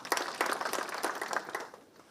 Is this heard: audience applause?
yes